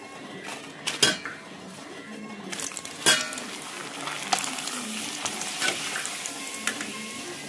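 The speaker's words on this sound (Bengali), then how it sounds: "ততক্ষণে তেলটা গরম হয়ে গেছে, পাঁপড়টা ভাজতে থাকি।" Papad frying in hot oil in a home kitchen, a soft steady sizzle running under sharp clinks and knocks of utensils against a pan, with no voices.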